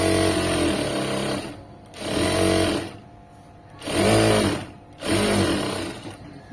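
A sewing machine stitching fabric piping runs in steady bursts of loud mechanical whirring, starting and stopping several times with short pauses between runs.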